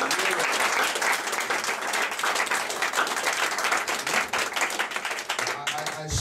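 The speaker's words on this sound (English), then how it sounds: "Somebody clap for Jesus." Church congregation clapping steadily during a worship service, dense sustained applause with some voices mixed in, fairly loud and close, easing slightly near the end.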